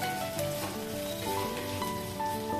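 Onions and a handful of cashews fry in a pan for a brinjal masala curry, giving a steady close sizzle and crackle that runs throughout, with faint stirring scrapes and no talk.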